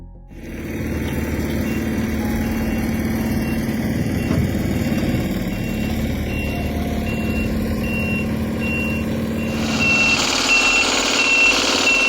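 A heavy haul truck with remote-controlled steering and hydraulic axles manoeuvres slowly. A loud, steady diesel engine drone sits under a regularly repeating high reversing beep. Near the end the engine noise swells and brightens.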